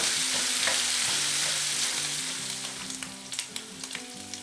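Venison sausage fries and crumbles in a hot cast iron pan, a steady close sizzle with scattered crackles and pops that thin out toward the end.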